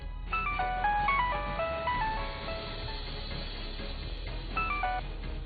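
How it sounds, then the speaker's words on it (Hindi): A phone rings with a melodic electronic ringtone, playing a repeating tune of bright tones, pausing briefly before the phrase starts again, fairly loud and close with no talking. "वो दिलशाद को फोन मिलाने लगी।"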